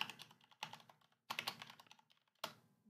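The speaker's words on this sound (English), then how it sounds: "I'm gonna type it in." Fingers type on a computer keyboard in quiet, close bursts of clicking keys, with two short gaps between the runs of keystrokes.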